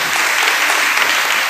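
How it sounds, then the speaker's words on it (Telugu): Church congregation clapping their hands together, a dense steady burst of applause filling the space throughout without pause. "గట్టిగా దేవుని చప్పట్లు కొడదాం"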